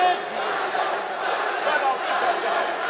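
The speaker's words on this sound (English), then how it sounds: "You will hear this Iranian crowd just keep getting louder and louder over the next few moments." An Iranian crowd at a freestyle wrestling semifinal roars and cheers continuously, loud and sustained, with a commentator talking over the noise.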